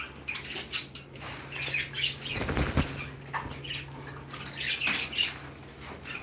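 A pet bird flying off with a burst of flapping wings close by, amid intermittent squawks and chirps from nearby birds, over a steady low hum.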